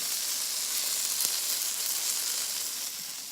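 Small tomcod fish fry in butter in a pan, making a steady, close crackling sizzle with a faint hiss, and no voices over it.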